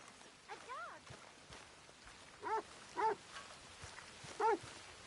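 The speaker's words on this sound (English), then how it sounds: "Arthur, a dog. A dog." A dog in the video game Red Dead Redemption 2 gives several short, fairly close barks or yips spaced a second or two apart, over a quiet rainy background.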